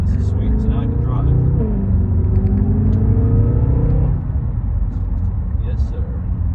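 Steady, loud engine rumble of a BMW M6 cruising in traffic, heard from inside the cabin with shifting tonal drone and faint voice-like sounds over it.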